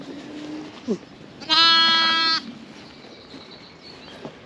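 A sheep at lambing time gives a loud, sustained bleat near the microphone, standing clearly above a quieter farmyard background with a few faint, brief animal calls before and after.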